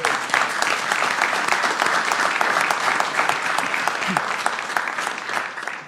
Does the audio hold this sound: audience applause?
yes